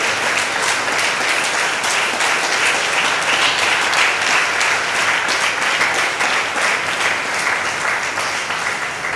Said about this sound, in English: I think it requires another round of applause from all of us